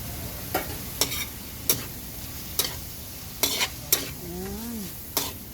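Bitter gourd stir-fries with crushed fresh tomato in a pan, a soft steady sizzle punctuated by about eight sharp spatula scrapes and clacks at irregular intervals, with a brief squeaky tone near the end.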